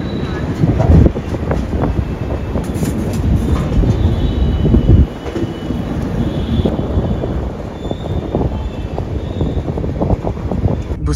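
A diesel train on the NandED to Sri Ganganagar run rolls through Bhusaval station with loud rumbling wheels, rhythmic clatter and faint squeals, steady throughout with a short drop midway and a few voices in the background.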